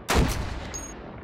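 A single sharp gunshot fired in the Hot Dogs, Horseshoes & Hand Grenades VR game, a loud close crack with a short fading tail.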